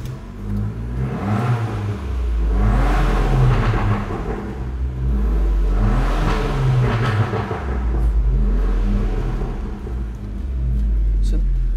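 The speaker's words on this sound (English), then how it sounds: "It sounds incredible and it's on stock exhaust. So let me give you a quick listen to it." A red Ferrari F430 Scuderia-like car on its stock exhaust revs hard twice, each blip swelling into a loud rasping roar and falling back to a deep, close idle rumble.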